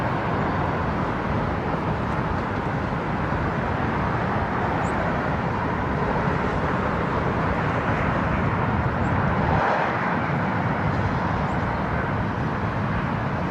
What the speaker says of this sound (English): I love the engines on the 200s. They do a nice roaring sound